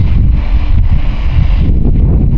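Strong wind of 20 to 30 mph buffets the microphone in a constant low roar from behind a brush pile on the plains, with gusty rumbling and no voices.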